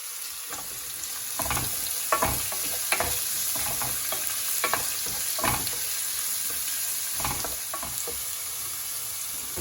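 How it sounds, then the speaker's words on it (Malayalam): Finely chopped onions fry in a pan for a mutton curry with gravy, a steady sizzle broken by repeated sharp stirring scrapes, fairly quiet, with no speech. "അതിലേക്ക് ഞാൻ ഇനി സവാള ഇടുകയാണ്. ചെറുതായിട്ട് അരിഞ്ഞു വെച്ച സവാള"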